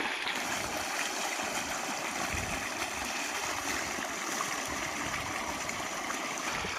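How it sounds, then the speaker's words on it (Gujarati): Water flows steadily through a farm irrigation channel watering a wheat field, a close, continuous babbling and trickling stream with no speech. "બહુ મહેનત કર્યા પછી પાણી ઢળ્યું છે."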